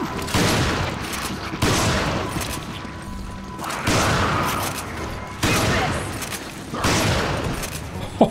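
Repeated heavy gunfire in Resident Evil 5, four or five loud booming shots spaced a second or two apart, each trailing off, with muffled voices talking underneath.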